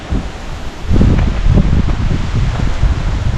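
Strong gusts rush through trees along the Superior Hiking Trail, giving a loud, steady roar of rustling leaves with buffeting wind noise on the microphone and no voices.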